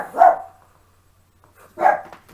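A dog barks twice, close and loud, with the two deep single barks spaced well over a second apart and quiet in between.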